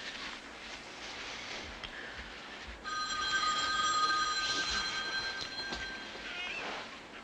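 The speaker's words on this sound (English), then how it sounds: "There goes my phone again." A telephone bell rings steadily at moderate volume over a low background hum, with no talking.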